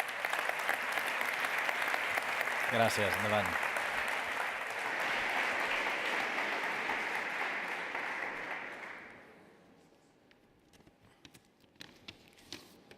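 An audience claps steadily at an award ceremony for school digital-technology projects. The applause is full and sustained for about nine seconds, with a brief spoken thanks in the middle, then fades into quiet room noise.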